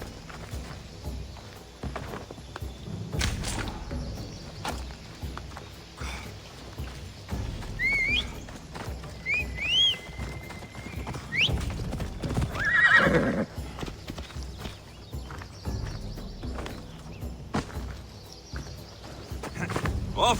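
A horse gallops in the video game Assassin's Creed Odyssey, its rapid hoof clip-clops running steadily under ambient game sound, with a couple of whinnies and neighs mid-run.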